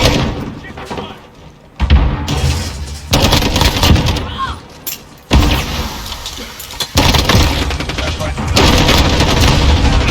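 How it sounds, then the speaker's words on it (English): Rapid MP5 hip-fire bursts in Modern Warfare crack loudly in clustered volleys, with dense game-mix noise and other battle sounds between bursts and speech in the background. "Hip fire is also another thing that's great to work on. Because with an MP5, it's like the best gun to hip fire."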